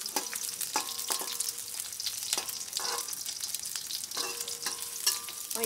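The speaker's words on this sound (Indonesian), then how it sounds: "ini kita masukin aja bawang gorengnya, bawang merahnya kita masukin, ditunggu sampai kering dulu biar harum" Fried shallots sizzle and crackle steadily in hot oil for a tumis genjer stir-fry, a continuous close frying hiss with occasional louder pops and stirring clicks, no talking.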